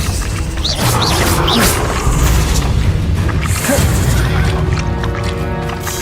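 Spell blasts in the video game Hogwarts Legacy: loud booming impacts and crashing bursts in quick succession over a continuous rumbling game soundscape, with a voice briefly heard among the effects.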